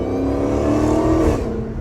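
A Dodge Hellcat's supercharged engine revs through its exhaust while driving, a loud, close, continuous droning roar that swells slightly, then eases off.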